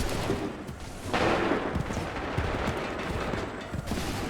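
Musket volleys crack across a battlefield in Assassin's Creed III, a dense rolling burst of overlapping shots followed by scattered reports and clatter.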